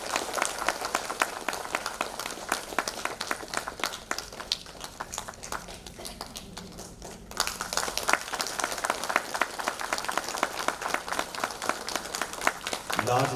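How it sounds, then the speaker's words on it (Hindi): Loud applause from the audience at an Arunachal Pradesh government ceremony, a thick continuous clapping that dips in the middle and then surges back strongly, with voices mixed in. "बहुत ही जोरदार तालियां"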